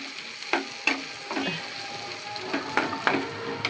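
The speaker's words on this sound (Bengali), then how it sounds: "ভাজা ভাজা করে নেব" Pangas fish preparation mixed and lightly fried in a pan, a constant close sizzle punctuated by several sharp scrapes and knocks of stirring at irregular intervals.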